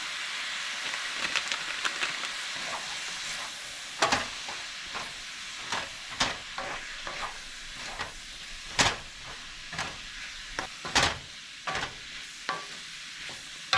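Homemade chili being stirred in a hot pot with hot chili seasoning mix, a spoon scraping in repeated, uneven strokes over a steady sizzle and hiss.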